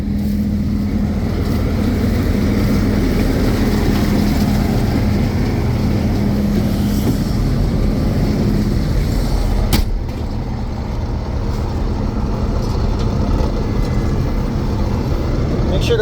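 An old combine harvester runs steadily on a Michigan farm, its loud, continuous low engine drone and mechanical rumble holding close throughout with no letup.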